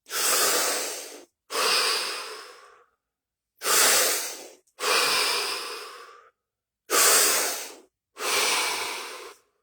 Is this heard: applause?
no